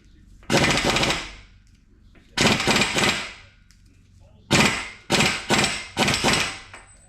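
Loud hammer blows bash a front driver-side CV axle into place on a 2001 Acura MDX during axle and oil seal replacement: five bursts of rapid metallic strikes, close, in separate clusters with short pauses between.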